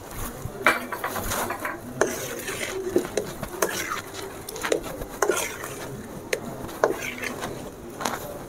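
A spoon scrapes and knocks steadily around a pan of thick red banana halwa, with irregular clinks and rubbing strokes at close range and no talk over it.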